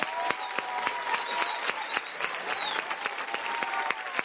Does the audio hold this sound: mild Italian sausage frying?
no